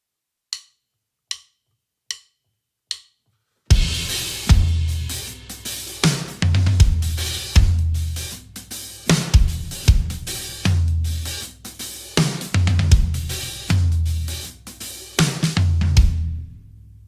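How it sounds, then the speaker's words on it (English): Four sharp stick clicks count in, then a drum kit plays a 16th-note variation across floor tom and snare, with steady punchy hits and deep tom thuds, loud and close, no voices. "16th note variation on the floor tom and snare"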